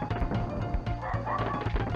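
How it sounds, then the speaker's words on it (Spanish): Dogs in a video game level barking and yipping in repeated bursts, steady and fairly loud over continuous game music and ambience, with no talking. "los perros se ponen a ladrar de vez en cuando"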